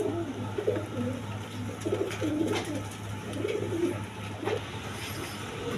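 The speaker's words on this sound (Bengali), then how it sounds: "এখানে এক পেয়ার ব্ল্যাকলেস শার্টিং কবুতর আছে" Blackless shirting pigeons, a pair kept at a seller's pigeon market, cooing in soft repeated rolling phrases over a steady low hum and faint background noise, moderately quiet with no talk.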